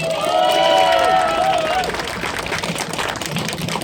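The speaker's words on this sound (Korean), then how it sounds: "다시 한번 뜨거운 박수 부탁드립니다" A crowd at a Korean election campaign rally in Gunsan applauds, clapping and some cheering blending into a broad wash of noise. A voice rings out loudly over the first part.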